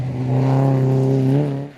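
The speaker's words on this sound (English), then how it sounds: "Silvio Perlino and Alessandro Olivieri in an Opel Kadett GTE" Opel Kadett GTE rally car roaring past at close range, a loud sustained engine note that rises slightly in pitch before fading away at the end.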